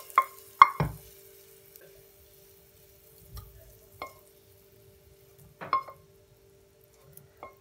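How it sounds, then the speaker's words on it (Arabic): Onion being stirred in oil in a frying pan, a scattered series of sharp utensil clinks and scrapes against the pan, several louder near the start and a few more spread out with quiet gaps between. "بحرك البصلة"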